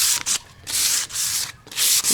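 Hand sanding on a wooden balustrade being prepared for airless spray painting gives a close, harsh rasp in four quick back-and-forth strokes with short pauses between them.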